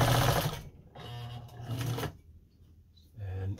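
A Nelco sewing machine stitches a buttonhole in loud bursts of rapid mechanical whirring, separated by short pauses and resuming near the end.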